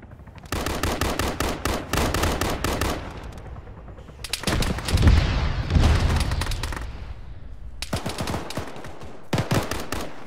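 Military gunfire rattles in dense automatic bursts in Arma, broken by the heavy, rolling boom of a grenade explosion in the middle. More close, loud volleys follow.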